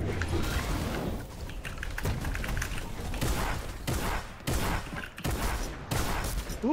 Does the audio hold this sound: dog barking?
no